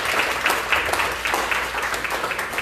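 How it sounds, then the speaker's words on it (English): Applause from an audience at a public address by the Nassau County Executive, a steady wash of clapping with a few louder bursts, moderately near and fairly even throughout. "give him a round of applause as well"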